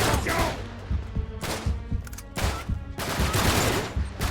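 Enemy gunfire in Uncharted 3 Remastered on PS4 crackles in heavy, rapid bursts of shots, loud and continuous, with occasional voices mixed in.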